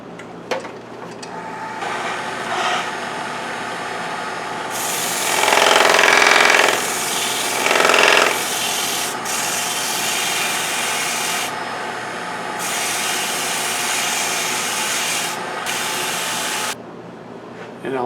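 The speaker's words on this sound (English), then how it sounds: "I might have to do a little more sanding" A turned wooden sushi dish is sanded with 220-grit paper on the lathe, a steady whirring rub that swells louder and rougher in a few stretches before the spinning drops away near the end.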